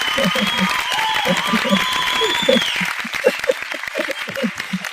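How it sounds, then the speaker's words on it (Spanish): An audience at a poetry colloquium applauds after a poem is read. Moderate, even clapping runs throughout, with a voice speaking over it. "Ahora sí que ha sonado bien ese aplauso."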